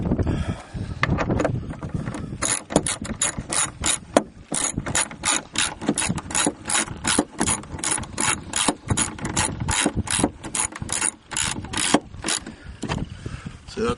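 A ratchet wrench tightens bolts on a green shed in rapid, steady clicking bursts close to the microphone, with a little wind noise and faint talk in the background.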